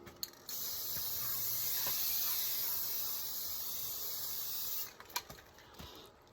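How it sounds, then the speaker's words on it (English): A steady hissing spray from an aerosol can of Rust-Oleum high heat ceramic coating runs for several seconds, then stops, followed by a few light clicks and rattles. "now I can go ahead and start spray painting it."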